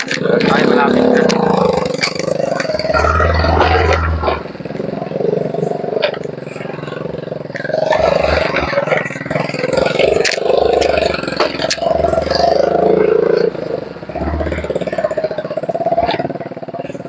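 A Suzuki Skydrive Crossover scooter engine revs and idles on a rough trail, its low putter swelling and dropping in bursts while a rider talks over it throughout.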